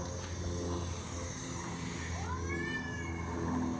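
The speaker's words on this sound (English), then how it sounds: "It's about to be a cat fight." A phone speaker plays a cat fight sound effect: a steady yowling caterwaul runs throughout over a noisy background, with one rising and falling meow near the end.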